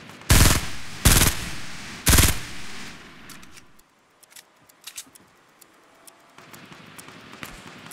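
Gunfire in the Fortnite video game comes as three loud, sharp bursts in the first few seconds, followed by fainter scattered pops and clicks, with no talking over them.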